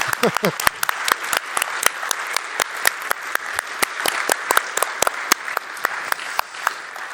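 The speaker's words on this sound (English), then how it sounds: "A big final applause, and then we leave." A small audience claps at the end of a conference's closing remarks, thanking the volunteers; the hand claps are sparse and distinct, fairly close, after a brief bit of talk at the start.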